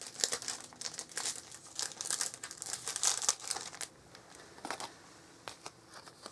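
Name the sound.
rustling of a packet being opened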